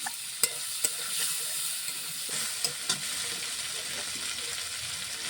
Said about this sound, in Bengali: সুন্দরভাবে ভাজা হয়ে গেছে, চিংড়িগুলো